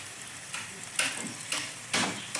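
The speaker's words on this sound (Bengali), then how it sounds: "খুব সুন্দরভাবে মিশিয়ে নেব, একটু ভেজে নেব" Chopped ginger, garlic and chili fry on top of reddened onions in a pan, giving a continuous bright sizzle punctuated by three or four louder scraping stirs, close and with no talking.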